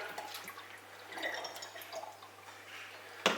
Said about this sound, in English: pouring the rest of the mixture in, get it in there